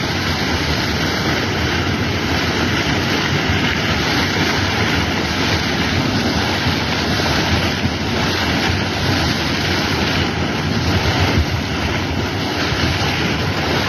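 Ground erupting like a geyser, spraying water for about three minutes at a time, makes a steady loud rushing hiss with wind buffeting the microphone, continuous throughout and free of speech.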